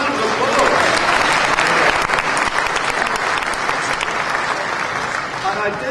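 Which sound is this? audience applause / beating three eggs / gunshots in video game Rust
audience applause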